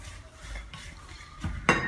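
Apple pie filling with sugar and lemon being stirred in a pan, a few soft scrapes and taps of a utensil followed by a sharper metallic clink at the end.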